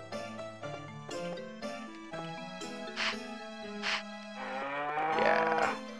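Synthesized cow moos from the farming video game Harvest Moon 64, several short lowing calls in a row over a steady looping background music track, fairly close and clear with no talking.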